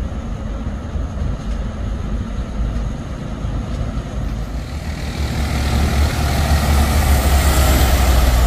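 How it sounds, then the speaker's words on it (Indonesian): A large LS bus rolls downhill on the Bukit Kodok hill road, a steady loud rumble of engine and tyres that swells louder toward the end, with no talk. "Ada bus LS menurun bosku."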